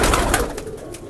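Kaldum breed Indian highflyer pigeons coo in a brief, loud burst, close by, with no talking.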